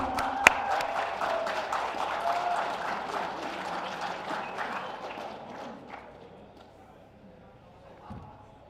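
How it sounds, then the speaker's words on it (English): A crowd at a press conference claps and cheers in a dense burst that gradually thins and fades out, with people talking over it. "Where's the round of applause, people?"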